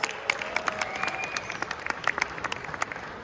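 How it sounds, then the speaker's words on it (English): An audience at a leadership training seminar in Warsaw claps in a scattered round of applause, with a few sharp, distinct claps standing out over a soft background patter. "Please give yourself a round of applause."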